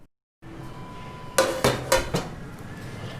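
A cooking pot is lifted and set down on an old cast dosa griddle on the stove for dum-cooking chicken coconut-milk biryani, giving four sharp metallic clanks in quick succession, close and fairly loud.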